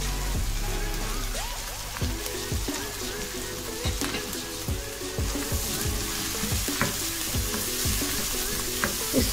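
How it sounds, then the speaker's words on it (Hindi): Chopped tomatoes fry in a hot pan for an aloo methi dish, sizzling steadily throughout with crackling pops and occasional scrapes of a stirring spoon, close and fairly loud with no talking. "इसको भी बस 1 से 2 मिनट तक अच्छी तरह से इस तरह फ्राई कर लेंगे।"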